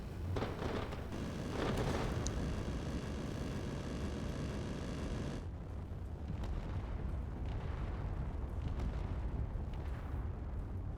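Flak bursts in a Space Engineers spaceship battle, a continuous heavy rumble of rapid explosions and booms, loud and dense throughout with sharper cracks at the start.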